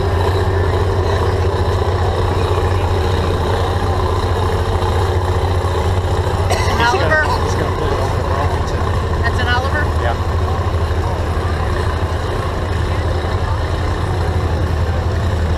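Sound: Chrysler engine of a tractor at a tractor pull

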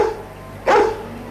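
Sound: cartoon dog barking

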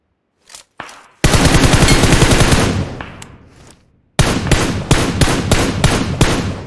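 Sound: gunfire in the video game PUBG Mobile

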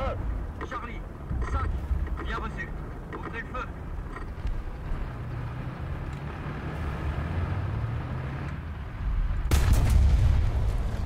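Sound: artillery strike destroying a tank in War Thunder video game

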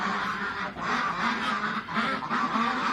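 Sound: ducks fighting and honking

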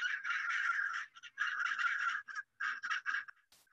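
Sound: flock of several hundred birds calling

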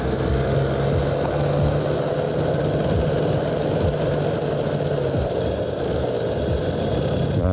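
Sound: Yamaha TZR 250 two-stroke motorcycle dry clutch rattle

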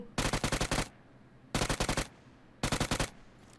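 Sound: gunfire from a UMP gun in a video game

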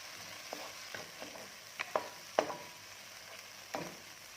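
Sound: coconut milk poured into simmering curry and stirred

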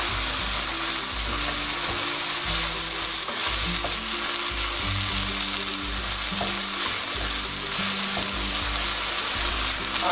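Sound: meat with salt and pepper stirred in a sizzling pan

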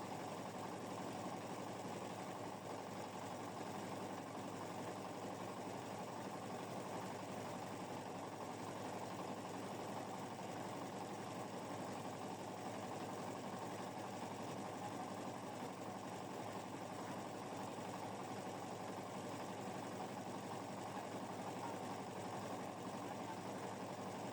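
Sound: automatic paddy husking machine running

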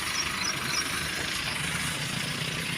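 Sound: tractor engine

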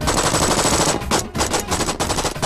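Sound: gunfire

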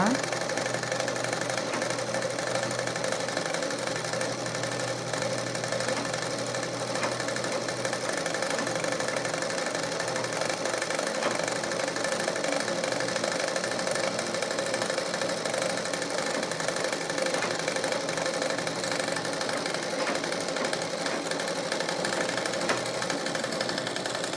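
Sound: sewing machine stitching thread for blouse dori

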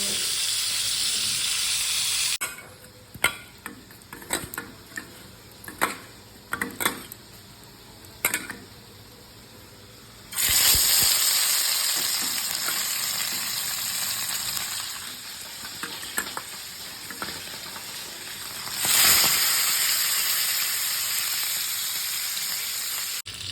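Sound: fish frying in pan

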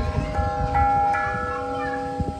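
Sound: church bell ringing

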